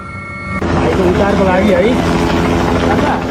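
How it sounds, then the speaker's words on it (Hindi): A rescue helicopter flies over a flash-flood area in Nepal, its steady loud rotor drone filling the whole stretch beneath a voice speaking over it. "अलग अलग जगह रेस्क्यू के लिए, बचाने के लिए हेलीकॉप्टर लगाए जा रहे हैं।"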